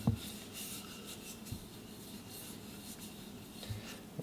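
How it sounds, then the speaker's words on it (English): A hand rubs a coconut oil and beeswax mixture over the outside of a tube, giving a soft, steady rubbing with a few light knocks, close and quiet with no talk. "You can just use your hand to rub that in."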